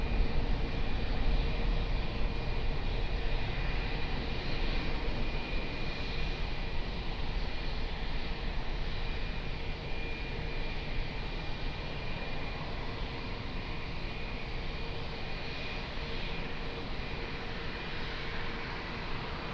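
An airplane lands on runway 20 at Lisbon Airport, heard as a steady, distant jet-engine roar and rushing noise that stays fairly even throughout, with no voices.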